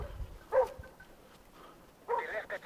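Hunting dog barking during a wild boar hunt in mountainous Evrytania, Greece: two short bark bursts, the second a quick run of yelps, moderately distant against quiet outdoor background.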